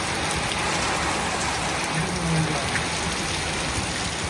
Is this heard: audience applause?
no